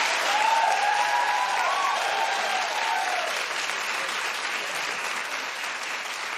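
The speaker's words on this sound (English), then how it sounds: "you were very, very reluctant to clap with that. But you ended up clapping after all." Studio audience at a daytime talk show applauds, a broad steady wash of clapping that slowly fades a little, with a faint tonal line early on and no speech.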